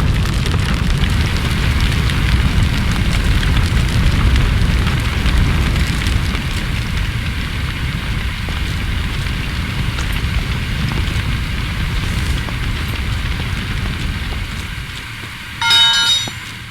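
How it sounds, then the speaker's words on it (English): Fire crackles and roars continuously in Firefighting Simulator - The Squad, a loud, dense burning rush that holds steady, then gives way to a short burst of sharper noise at the very end. "Let the AI quench the fire."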